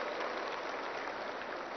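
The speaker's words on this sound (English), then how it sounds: "I think they deserve a big round of applause for this." Crowd clapping at an inauguration event for a green property show, a steady dense wash of applause sustained throughout with no voices over it.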